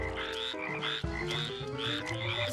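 Several frogs croak loudly and continuously in a dense, overlapping chorus, with rhythmic repeated calls close by and no speech.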